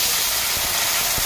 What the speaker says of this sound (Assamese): পানী এপিনে উতলিয়ে আছে